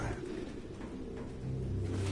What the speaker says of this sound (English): Goddamn fucking pigeons!